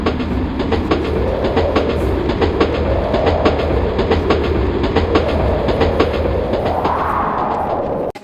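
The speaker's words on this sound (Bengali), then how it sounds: "আমাদের ট্রেন দাঁড়িয়ে আছে 2 নম্বর প্ল্যাটফর্মে" A train at a station platform at Andal Junction, with loud, close rail rumble and a steady rhythmic clickety-clack of wheels over track joints throughout.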